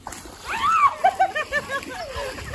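Water thrown onto a person at an outdoor grad party splashes in a few quick bursts, heard close up under laughter and voices.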